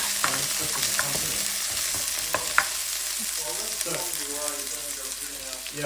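Onion stir-fries in a hot pan for vegetables with shrimp and cashew nuts, a steady close sizzle broken by scraping stirs, with a faint voice underneath.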